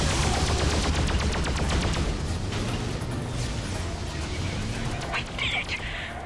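Space fighters trade weapon fire in a battle in the game Freelancer: dense, rapid bursts of shots rattle continuously and loudly, thinning out toward the end with a few scattered blasts.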